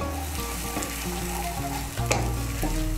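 Spice paste sizzles loudly in hot oil as it is stirred with fried new baby potatoes, a steady close crackle with scraping stir strokes and no talking.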